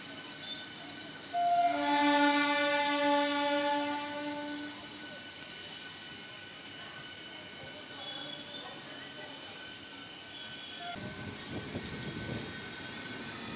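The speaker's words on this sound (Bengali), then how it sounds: "এই ট্রেনটা 1 নম্বর প্ল্যাটফর্ম থেকে হাওড়ার উদ্দেশ্যে তারকেশ্বর স্টেশন থেকে রওনা" A local train leaving platform 1 at Tarakeswar station for Howrah, sounding a long, loud horn blast that fades into a low, quiet rolling rumble with faint station noise.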